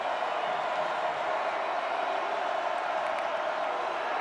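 A large football stadium crowd at the Rock, home of Southern Miss, during a college game against Mississippi State, a steady, dense roar of many voices filling the air without breaks or distinct peaks.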